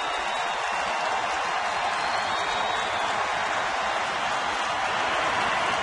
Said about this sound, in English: Crowd very much into it.